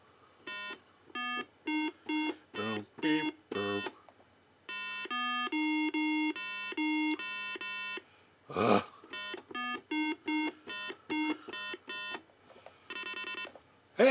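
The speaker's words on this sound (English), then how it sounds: "It just goes beep, beep, beep, beep, beep." A Milton Bradley Simon electronic game plays its sequence of pitched beeping tones, short separated notes and held tones in a quick melodic pattern, with occasional button clicks and a brief voice between phrases.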